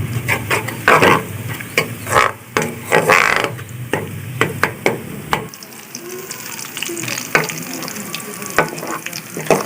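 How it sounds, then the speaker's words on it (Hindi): Onions browning in a pan over low heat for chicken nihari, a close sizzle punctuated by frequent scraping and clacking of a spoon, busier at first then settling into quieter frying. "हमारे प्याज काफ़ी हद तक ब्राउन हो चुके हैं। हल्की आंच पे हमने ब्राउन करे।"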